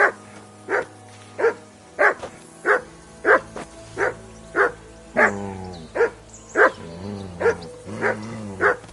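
A dog barks repeatedly in a steady, evenly spaced run of loud, close barks, about a dozen over several seconds, with some slight whine in the tone and no talking.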